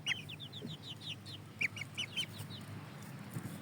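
Young Shamo and Indio Gigante chickens at a poultry seller's, giving a quick run of soft chirping clucks in a rapid series, then a few scattered calls, faint and fairly close with light background noise.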